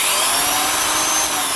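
A Milwaukee 1001 1/2-inch D-handle drill motor runs at full speed with a loud, steady high-pitched whine, close up and alone throughout.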